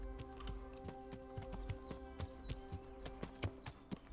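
A horse's hooves clip-clop in rhythmic, fairly close steps in the medieval video game Kingdom Come: Deliverance, with a steady low hum running underneath.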